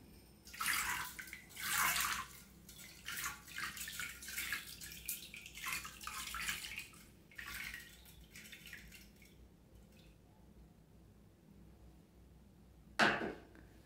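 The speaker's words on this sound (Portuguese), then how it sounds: "vou pegar a misturinha e vou colocar aqui no meu vaso sanitário." A homemade cleaning mixture poured into a toilet bowl in a bathroom, in several bursts of splashing liquid over about nine seconds, then quiet with one sharp knock near the end, with no talking.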